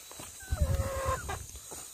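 A young chicken, under three months old, clucks nearby in a short run of throaty calls, with one rising, crow-like note, over a faint steady background hiss.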